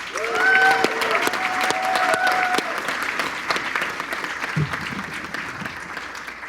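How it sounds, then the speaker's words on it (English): A crowd at a hackathon closing and awards ceremony applauds steadily for several seconds, dense clapping with a few cheers and voices mixed in, gradually tapering off. "huge round of applause for Danny"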